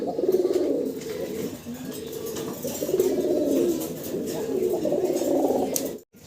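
Colour-marked pigeons coo in a continuous low, rolling murmur, with soft talking in the background before an abrupt knock at the end.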